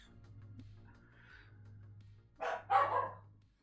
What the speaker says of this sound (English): Doggos are barking.